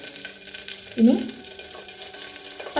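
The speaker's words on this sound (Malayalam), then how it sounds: "കുറച്ച് വെളിച്ചെണ്ണ ഒഴിച്ചു കൊടുക്കാവേ. ഇച്ചിരി കറിവേപ്പിലയും കൂടെ ഇടാം." Curry leaves hit hot coconut oil while avial is being made in a cooker, giving a loud, close burst of spattering sizzle that settles into a steady fry, with a brief spoken word.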